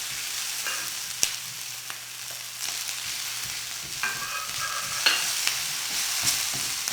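Garlic, onion, ginger and chili sauté in a hot pan, a steady close sizzle with occasional scrapes and stirring clinks, no voices over it.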